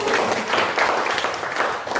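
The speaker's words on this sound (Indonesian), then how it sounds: "Ya, tepuk tangan untuk presidium." Audience applause for the presidium at a plenary session of a scouting council meeting, a dense steady patter of many hands filling the room at moderate loudness without a break.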